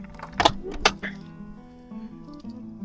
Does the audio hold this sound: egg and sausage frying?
no